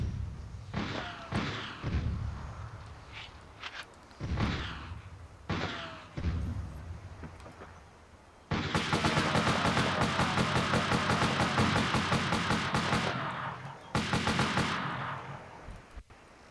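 Automatic gunfire and explosive blasts from the Army Men: Land, Sea, Air video game on PlayStation, with several separate loud bursts early on followed by a long, sustained stretch of rapid fire and a final burst.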